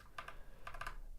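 A handful of crisp keystrokes on a computer keyboard, a pair then a quick cluster of three or four, close and quiet against a low room hum with no talk.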